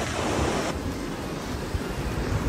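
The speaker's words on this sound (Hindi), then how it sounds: "नदी बह रही है" Steady rushing water of a mountain river flows continuously on the Rupin Pass trek, a broad wash of noise like rapids, with a waterfall nearby, some wind buffeting and no talking.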